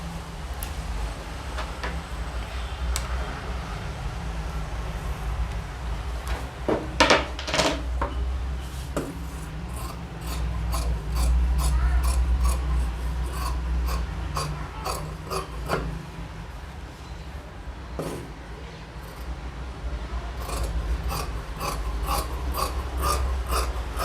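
Scissors snip through churidar fabric on a tailoring table in a series of crisp, close, irregular cuts, with a steady low background hum and no talk.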